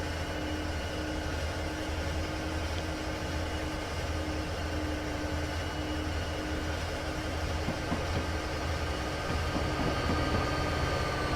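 A continuous low rumble and steady hum of a passing intermodal freight train in Train Simulator 2020 at Soldier Summit near Helper, unbroken for the whole stretch, with faint rattling near the end.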